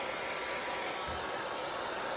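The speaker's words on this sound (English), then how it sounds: "I'm going to dry this with my hair dryer just a little bit" A hair dryer blows with a constant loud, airy whoosh throughout, drying chalk paste on a T-shirt, close to the microphone and with no voices.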